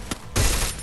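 A short burst of rapid automatic fire from a Mac10 submachine gun in the Free Fire battle royale game, loud and close, following a faint single crack.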